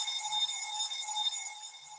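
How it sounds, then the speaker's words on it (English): A continuous electronic alarm keeps sounding, a steady high-pitched tone that holds without pause and fades slightly toward the end, with no speech. "here comes my alarm again."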